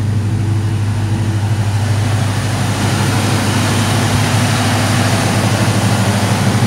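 A deep, steady V8 engine rumble from a 1983 Mustang GT 5.0 idles continuously with a throaty low drone from an X-pipe and two-chamber Flowmaster dual exhaust, loud and close, with no talking.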